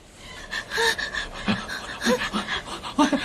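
A person pants hard and out of breath, with quick ragged gasps and huffs in a dramatized scene, close and fairly loud with no clear speech.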